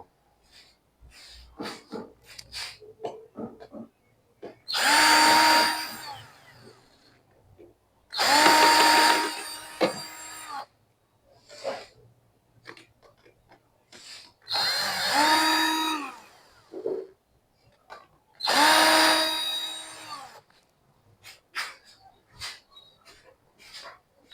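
A power tool loosening clamp nuts on a 60V 150Ah lithium battery's BMS: four loud, sustained whirring bursts of a few seconds each, separated by quiet gaps with small clicks and handling noises.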